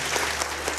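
Studio audience applause welcoming a guest onto an Islamic television programme, a brief burst of dense, steady clapping from the crowd with no voices over it.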